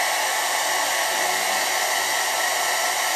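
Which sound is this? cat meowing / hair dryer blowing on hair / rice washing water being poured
hair dryer blowing on hair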